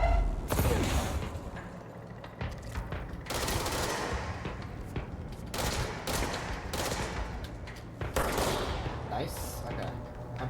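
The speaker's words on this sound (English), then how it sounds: "This is like an Uzi. Low accuracy, but high fire rate." Rapid bursts of Uzi submachine gun fire in the video game Control, a high fire rate with several loud volleys crackling one after another through the stretch, mixed with game effects.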